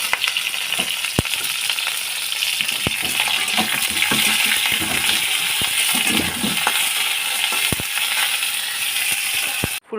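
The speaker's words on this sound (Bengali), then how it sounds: "আমি এই তেলের মধ্যেই ফুলকপিগুলো হালকা লাল করে ভেজে নেবো" Cauliflower florets frying in hot oil for a khichuri dish, a steady dense sizzle filling the whole stretch, broken by sharp metallic clicks and scrapes of a utensil against the pan.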